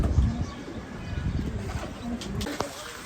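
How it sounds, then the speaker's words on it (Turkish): Farm pigeons or doves coo close by in a coop, low soft repeated calls mixed with rustling. Someone talks faintly underneath. "Bunlar da bizim Çiftlik kuşlarımız, değerli takipçilerimiz."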